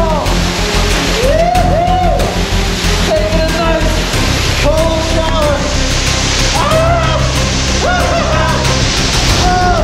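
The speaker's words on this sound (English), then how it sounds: "Oh, I hear a waterfall." Steady, loud rush of an underground waterfall fills a cave 600 feet below ground, a constant broadband roar throughout, with voice-like tones drifting over it at moments.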